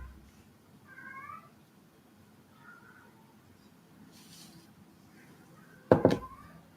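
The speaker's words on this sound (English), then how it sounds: "you guys can probably hear him. My cat is like crying after he just came from my room" A house cat cries with a few short, faint meows early on, then lets out one loud, close wail near the end, with a quiet room behind it.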